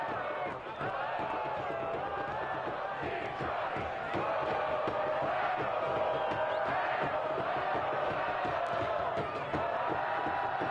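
A soccer crowd at Keyworth Stadium keeps up a steady roar of chanting and shouting through a Detroit City FC match, loud and continuous throughout.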